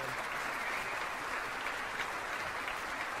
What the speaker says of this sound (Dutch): geven ze zelf een applausje voor het Radio mooie Orkest